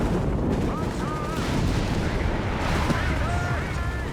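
Heavy artillery bombardment in Company of Heroes 3, a dense continuous rumble of overlapping explosions and distant gunfire filling the whole stretch, loud and unbroken, with faint whistling shells above it.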